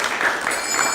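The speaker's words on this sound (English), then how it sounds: "So let's give a big round of applause to them." An audience applauds with continuous dense clapping, loud and close, filling the whole brief moment.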